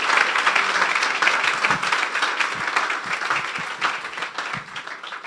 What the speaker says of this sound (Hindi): जोरदार तालियां खुदा की खादमा के लिए।